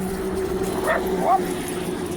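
A dog lets out two brief, fairly faint yips or whines as a bus passes, heard over a steady low background hum.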